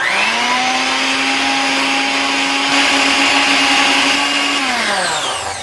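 An electric mixer whirs steadily through cream cheese frosting with vanilla for carrot cupcakes, a loud sustained motor drone that holds for about five seconds and then winds down at the end, with no talking.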